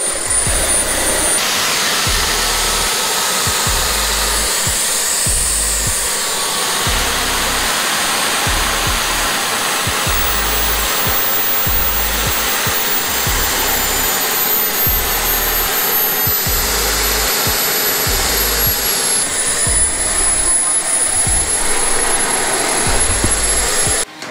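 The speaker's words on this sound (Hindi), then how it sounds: "और फिर जेट इंजन स्टार्ट हो जाएगा" A small jet engine on a drone runs at a steady, loud roar with a high-pitched whine on top, sustained without pause, then cuts off abruptly at the end.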